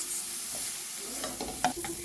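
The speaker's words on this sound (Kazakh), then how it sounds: "Майдалап туралған немесе езілген сарымсақты салып, 1-2 минуттай қуырамыз." Minced garlic frying in butter in a pan, with a soft steady sizzle and a few louder scrapes of stirring near the end.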